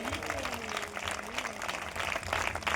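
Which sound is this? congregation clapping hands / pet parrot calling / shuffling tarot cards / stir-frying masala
congregation clapping hands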